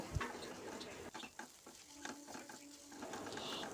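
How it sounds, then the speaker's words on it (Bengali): Fried vegetables being stirred and tossed into egg chowmein in a pan, soft continuous sizzling with irregular scraping and clinking of the utensil, fairly quiet and close, no talking. "এর ওপর থেকে ভেজে রাখা সবজিগুলোকে দিয়ে ভালো করে মিশিয়ে নেব"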